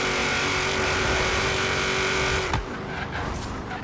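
A 2000 Cobra R SN95 Mustang in the racing game Forza Horizon 3 roars loudly with a sustained tire skid over its engine, then abruptly quiets as the slide ends.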